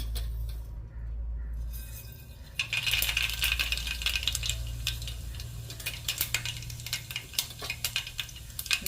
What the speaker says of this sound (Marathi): तेल छान प्रकारे गरम झालेलं आहे आता आपण त्यामध्ये राई टाकून घेऊया